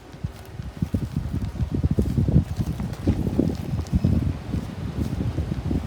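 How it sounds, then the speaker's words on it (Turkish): Gusty wind buffets the microphone outdoors in rough, uneven bursts, with faint rustling underneath and no talking. "Farkındaysanız biraz da rüzgar var"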